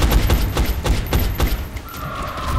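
Rapid bursts of gunfire in XCOM: Enemy Unknown, a dense rattling volley of sharp shots close and loud for a couple of seconds before easing off into a lingering tone.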